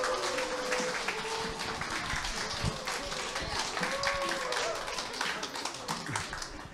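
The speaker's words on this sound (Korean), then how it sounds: "네, 강사님 나오실 때 박수 부탁드립니다." An audience at a seminar claps as a lecturer walks on stage, scattered moderately loud clapping that runs steadily throughout, with faint voices mixed in.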